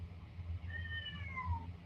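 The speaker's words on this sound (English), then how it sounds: "Sorry about that. That's my cat." A pet house cat meows a few times indoors, its short rising and falling calls clear but moderately quiet over a low background hum.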